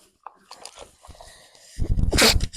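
A single loud, close sneeze bursts out near the end, following a stretch of quiet handling noises and soft clicks.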